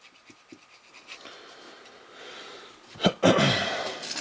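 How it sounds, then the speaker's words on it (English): Breath blown in short puffs through small parts of a Tecumseh 8HP HM80 carburetor during cleaning, several faint puffs and then a couple of strong close rushing bursts near the end. "I'm just blowing it out with some breath."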